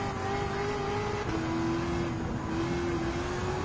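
Supercar engines, including a 2013 Lamborghini Veneno and a 2006 Ford GT, race in Gran Turismo 7, making a loud, continuous high-revving drone whose pitch shifts as a gear changes.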